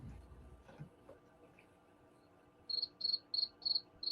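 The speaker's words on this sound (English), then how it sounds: "There goes the crickets." Crickets chirp in a quiet room, five or six evenly spaced high trills arriving after some soft background shuffling, fairly close and unaccompanied by speech.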